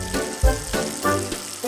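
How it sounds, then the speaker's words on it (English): A bathroom faucet runs, giving a loud, close, steady rush of water with a few brief gurgling surges and no speech. "Faucet"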